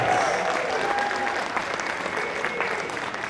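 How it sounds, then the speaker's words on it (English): Audience applause at a national boccia championship for the winning state team, a sustained, fairly loud burst of many hands clapping that holds steady to the end, with faint crowd murmur underneath. "big round of applause to this year's title winners,"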